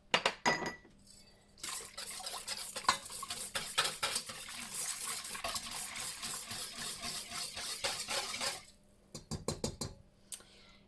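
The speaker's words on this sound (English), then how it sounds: "Okay, we're gonna whisk these." A whisk beats water and olive oil together in a bowl for sourdough bread, producing rapid, rhythmic metallic clinks and sloshing scrapes in bursts, with brief pauses between rounds of whisking.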